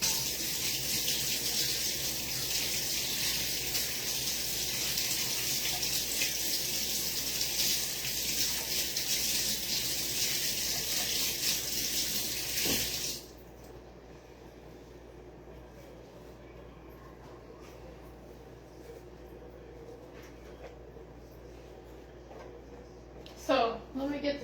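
Tap water running into a kitchen sink during hand washing, a steady close rush for about thirteen seconds that then stops, followed by quieter room sound and a brief clatter at the end.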